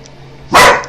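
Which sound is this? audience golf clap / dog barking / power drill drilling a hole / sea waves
dog barking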